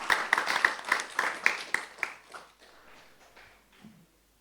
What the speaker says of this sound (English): Please big applause to our mentors.